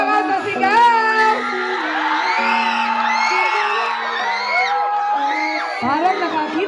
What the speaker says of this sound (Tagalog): isang malakas na sigaw!